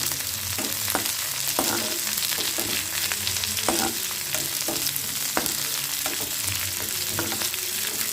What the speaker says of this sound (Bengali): এটা ভাজা ভাজা করে হয়ে যাক।